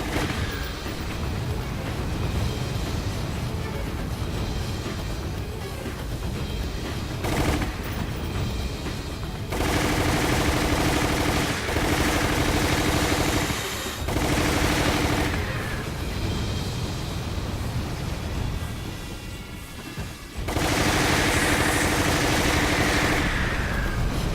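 Gunfire in Resident Evil: The Umbrella Chronicles during a boss fight, dense bursts of rapid game shots in long stretches with brief pauses, loud and layered over a rumbling game soundtrack.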